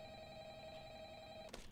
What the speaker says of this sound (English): I'm muting the phone call.